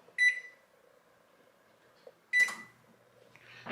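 An oven control panel gives two short, bright electronic beeps a couple of seconds apart while it preheats in a quiet kitchen, with faint clicks between them.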